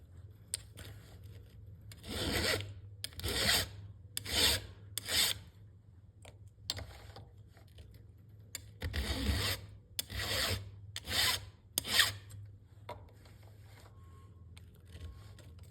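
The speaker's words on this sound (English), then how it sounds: "You're going to take nice, easy, light strokes, let the file do all the work." Hand file drawn across chainsaw chain teeth in a steady series of light, rasping strokes, each a short scrape followed by a pause, close and clear in a quiet space.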